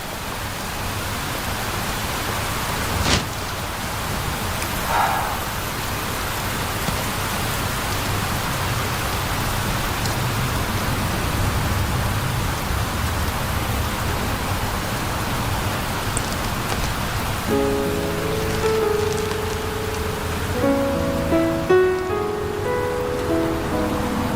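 Steady rain falling and pattering on surfaces, a continuous hiss throughout, with a few soft tonal sounds toward the end.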